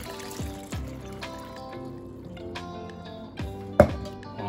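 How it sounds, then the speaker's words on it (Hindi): About four cups of water pour into a pressure cooker of chickpeas and meatballs, a soft trickling and splashing stream with bubbly gurgles and a brief louder splash near the end, quiet and close. "और आप इसमें ये तकरीबन 4 कप पानी जो है ये"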